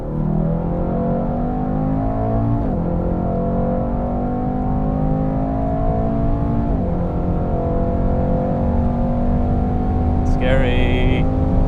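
A Mercedes-AMG wagon's engine holds a steady, loud drone through the whole stretch, its pitch climbing in long sweeps with two sharp drops where gears shift, and a brief higher whine rises near the end.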